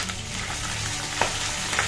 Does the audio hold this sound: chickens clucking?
no